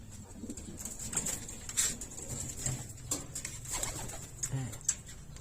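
Pigeons coo softly amid a busy, close indoor hum inside a pigeon loft, with scattered fluttering and shuffling and a faint voice in the background.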